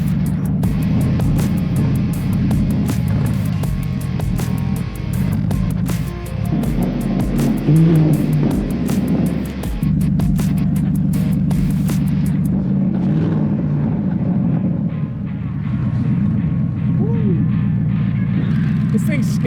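A Cobra kit car's engine runs at a loud, rough idle and surges through a few blips of throttle, rumbling steadily close by, with people talking over it.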